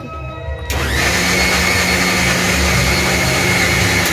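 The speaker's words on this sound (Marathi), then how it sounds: "आवाज येत असेल निश्चितच मिक्सरच्या द्वारा" A kitchen mixer grinder switches on after a brief quiet moment and runs steadily at full power, a loud, close, continuous motor whine with grinding rattle that holds to the end.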